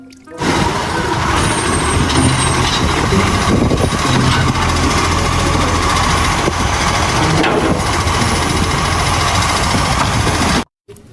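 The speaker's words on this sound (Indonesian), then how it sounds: "mobil truk sampah." A toy garbage truck gives out a loud, continuous electronic engine rumble for about ten seconds, then cuts off abruptly.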